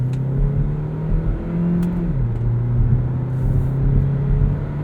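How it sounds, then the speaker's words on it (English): A 2020 Hyundai Ioniq Plug-In Hybrid Limited accelerates hard, its engine droning steadily with a pitch step partway through, heard from inside the cabin without talk. "Decent amount of acceleration. I'm surprised at how hard this thing actually pulls."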